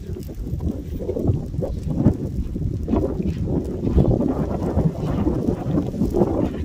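A storm blowing in over a lava field brings gusty wind buffeting the microphone, a continuous rough roar that swells and dips without pause, with no talk.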